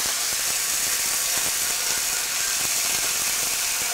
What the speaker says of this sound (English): I'm going to deglaze the pan with a little red wine.